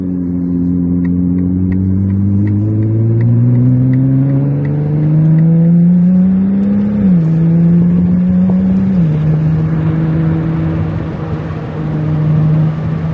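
Ferrari 296 GTB with an 830 hp engine accelerating hard along a straight, a loud, close, rising engine drone that climbs steadily, steps through a gear change and settles into a sustained high cruise, with no talking.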